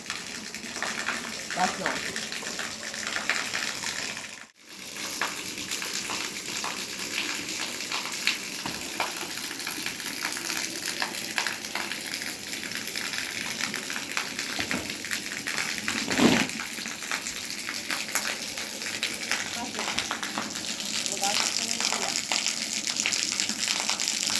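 Water gushes and splashes steadily for the whole stretch, a broad rushing noise close by, briefly cutting out once early on.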